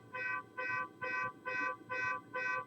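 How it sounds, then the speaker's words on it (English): A car alarm outside, its system faulty from a short, sounds six evenly spaced electronic tone bursts, steady and moderately distant. "that car alarm is driving me nuts."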